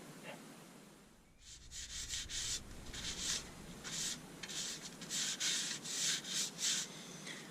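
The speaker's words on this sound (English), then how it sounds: "I'm just going to seal the outside with some sanding sealer" Steady rubbing strokes on a laburnum wooden bowl as sanding sealer is applied, repeated in a brisk rhythm, close and fairly loud, with no talking.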